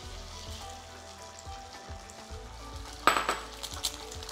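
Eggs frying in butter on a nonstick griddle: a gentle sizzle runs under light utensil clinks, then a sudden louder crackling burst as the eggs hit the hot surface, close up.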